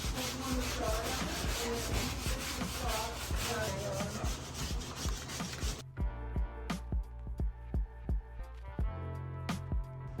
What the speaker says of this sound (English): We're doing like the grout scrub.